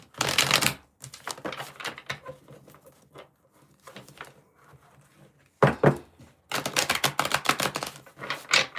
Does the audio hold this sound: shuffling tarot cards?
yes